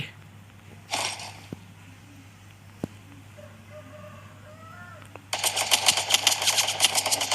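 Gunfire erupts in the mobile shooter Free Fire. One short burst comes early, faint voices follow in a quieter stretch, then dense, rapid automatic fire rattles loudly until the end.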